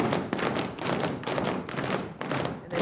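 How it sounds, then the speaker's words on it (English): Feet stomp on the floor during a classroom movement break, a run of heavy, repeated thuds in uneven bursts, close and fairly loud with no talking. "you're going to stomp your feet."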